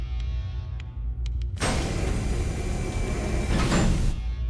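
A sci-fi spaceship door in an action film suddenly whooshes into motion, a loud broadband mechanical rush that holds steady for several seconds after a quiet, low-humming start.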